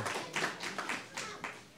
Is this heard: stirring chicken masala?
no